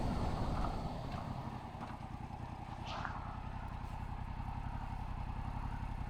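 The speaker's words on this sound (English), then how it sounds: "not quite articulated lorries like this one that's coming" A not-quite-articulated lorry driving along a narrow gravel country road, its low engine rumble steady and fairly close throughout, with no voices.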